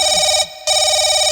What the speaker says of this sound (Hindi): फोन उठा जवान जी, शेखर, फोन उठा।